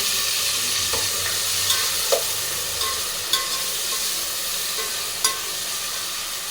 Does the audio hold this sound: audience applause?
no